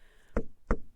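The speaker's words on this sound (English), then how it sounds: "each visit was announced by exactly 5 knocks on the door" Two deliberate, solid knocks on a wooden door, close and distinct with a short pause between them.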